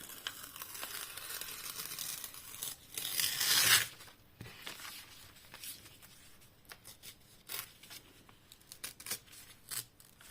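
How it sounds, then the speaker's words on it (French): Dried paper torn by hand close up, with a louder ripping burst early on followed by softer scattered tearing and crinkling sounds, with no voices. "ça a l'air bien sec, donc je vais venir déchirer"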